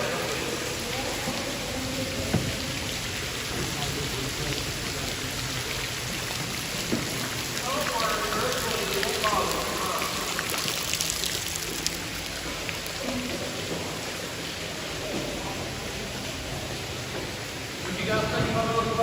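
Steady broadband rush of underground waterfalls pouring into water inside a flooded cave mine in Kentucky's Red River Gorge, heard from a kayak tour; the roar is constant and fairly near, with people talking over it.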